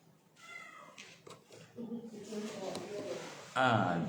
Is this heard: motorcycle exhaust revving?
no